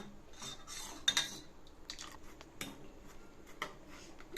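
A spoon scrapes and clinks against a pan while a pinch of salt is stirred into a homemade health mix, with soft irregular scraping and a few sharp metallic taps, quiet and close with no talking.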